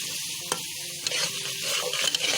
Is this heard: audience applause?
no